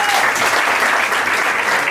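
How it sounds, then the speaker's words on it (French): Comedy club audience applauding a comedian, a dense steady wash of clapping from a packed room, loud and close throughout. "On peut l'applaudir."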